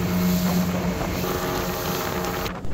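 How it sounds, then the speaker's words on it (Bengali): A speedboat heads out to sea from Kuakata main beach in Bangladesh, its engine droning loud and steady under strong wind buffeting the microphone, cutting off abruptly at the end. "কুয়াকাটা মেন বিচ থেকে স্পিড বোট সমুদ্রের দিকে যাত্রা শুরু করলো।"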